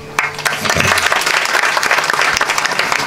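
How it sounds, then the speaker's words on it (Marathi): A large crowd at a Marathi kirtan gathering of over ten thousand people claps loudly and continuously, a dense, steady roar of applause with no talking. "जोरदार टाळी वाजवा"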